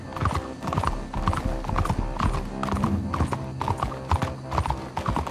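A horse being ridden in Red Dead Redemption 2, with close, rhythmic hoof clip-clop over dirt, a brief whinny, and faint music behind.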